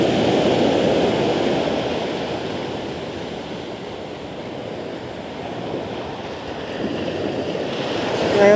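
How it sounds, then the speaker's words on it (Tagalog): Ocean surf at high tide washes steadily onto a Philippine shore where people are shore casting, a continuous loud roar of breaking waves that swells, eases and swells again, mixed with wind buffeting the microphone. "Yung alon."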